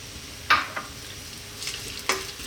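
Onion goes into olive oil in a wok, giving a faint steady sizzle with a few sharp clatters and stirring scrapes at irregular moments, and no talking.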